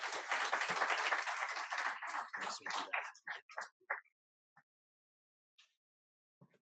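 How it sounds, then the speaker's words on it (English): Audience applause at a defense-industry talk on Army cyber, a full burst of clapping for about three seconds that thins into scattered claps and fades to near silence, with a couple of late isolated claps. "Let's give Honorable Rubin a round of applause."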